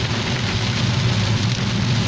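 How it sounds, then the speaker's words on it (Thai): Heavy rain pours onto a multi-lane highway with passing traffic, a steady dense hiss of rain on the road surface with a low rumble of vehicles underneath, loud and continuous with no voices. "็จะเห็นว่าฝนตกหนักมาก"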